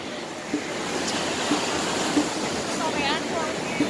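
Large sea waves break on the beach at Pelabuhan Ratu in the evening, producing a steady, broad wash of surf that fills the background from start to finish.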